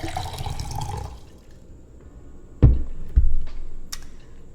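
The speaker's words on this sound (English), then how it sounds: "I'm pouring this water out now." Water from a glass pours out into a sink in a short gushing rush that stops after about a second, followed by a couple of sharp clunks and light drips.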